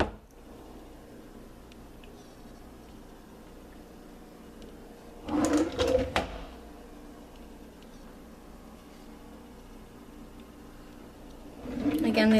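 Kitchen pull-out drawers beside the sink slide and clunk open and shut in one brief, fairly loud burst near the middle, with another at the end, over a quiet indoor room tone.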